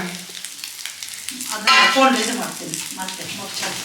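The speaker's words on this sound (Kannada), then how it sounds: "ಸೊ ಇದು ಫ್ರೈ ಆಗ್ತಾ ಇದೆ." Pathrode, a Malnad-style dish, fries in a pan with a steady sizzle, joined by occasional scraping and stirring clatter. The sizzle swells louder midway and stays fairly close throughout.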